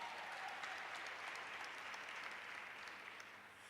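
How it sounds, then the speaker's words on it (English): Sustained applause from a crowd at a school of entrepreneurship launch event, a steady wash of many hands clapping that stays fairly even before easing slightly toward the end, somewhat distant and soft. "Another round of applause for all of you that came today."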